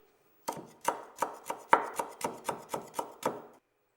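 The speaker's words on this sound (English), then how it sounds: "You will need to chop the kaffir lime leaves very finely" A knife chops kaffir lime leaves finely on a board in about ten crisp, evenly spaced strikes that sound close and clear, with no talk.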